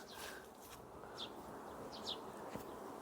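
Insects buzz around spring blossoms on fruit trees outdoors, a soft continuous hum close by with a few faint bird chirps in the background.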